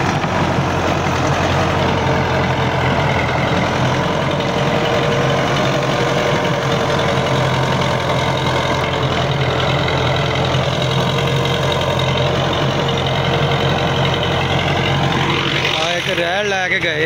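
A Russian MTZ 50 tractor pulling a 60-blade rotavator through a field, its engine droning loudly and steadily throughout, with someone talking over it.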